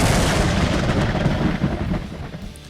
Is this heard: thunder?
yes